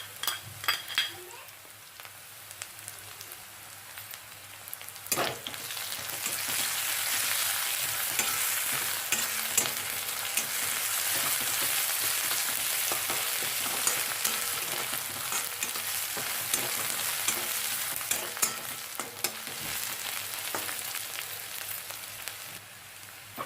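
A paste of green chili and garlic fries in a pan with a strong, steady sizzle that swells after the first few seconds. Occasional utensil clinks and stirring scrapes sound over it, and a voice talks faintly in the background.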